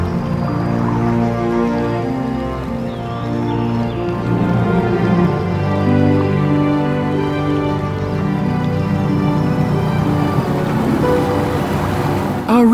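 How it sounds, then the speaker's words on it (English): Water ripples and laps steadily around a boat moving through the reed-lined channels of the Danube Delta, with a soft breeze and a low, constant engine drone throughout, close and continuous with no talk. "the noise of the outside world is replaced by rippling water and the gentle sound"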